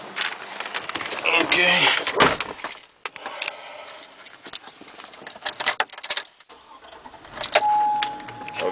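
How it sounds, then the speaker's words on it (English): A blue 2007 Hummer H2 is started at a Miami used-car lot, with keys jangling and clicking before the engine turns over and settles. Someone speaks briefly nearby. "I'll go ahead and get it started."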